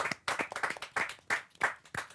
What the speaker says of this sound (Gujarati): જોરદાર તાળીઓ સુરત અને કરંટ બંને માટે